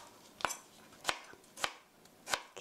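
A knife cuts vegetables into small half-centimetre cubes for tomato soup, four crisp, evenly spaced chops on a board, close and clear.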